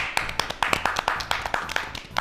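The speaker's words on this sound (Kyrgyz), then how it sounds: "Ясмина жана ошондой эле Даткайым кол чабуулар менен тосулалы." Applause with steady rhythmic clapping greets first-grade children at a first-day-of-school ceremony, the claps close and lively over a faint low hum for about two seconds.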